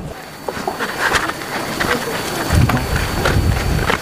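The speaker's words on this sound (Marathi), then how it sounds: "दादा बाहेर पाऊस पडतोय तर घरात पाणी कुठून पडतोय" Steady rain falls outside a village house, a constant broadband patter and hiss running beneath close, continuous conversation.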